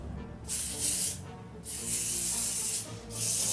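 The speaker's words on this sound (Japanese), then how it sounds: "スプレーしとかんでいいの？" Hair spray hisses from an aerosol can onto a girl's fringe in three bursts, each lasting about a second, with short pauses between them. The bursts sound loud and close, and nobody speaks.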